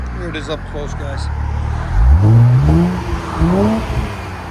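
An Infiniti Q50 3.7L V6 with an Invidia Gemini cat-back exhaust is heard up close, idling low before a loud rev rises and falls, followed by a second shorter rev; a voice talks briefly at the start.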